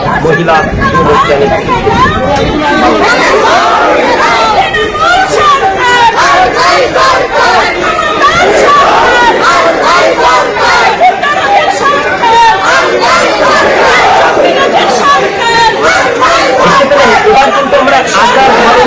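A dense, loud crowd at a BJP political rally in West Bengal, many voices overlapping in continuous chanting and shouting that never lets up, with a rough rhythmic pulse running through the babble.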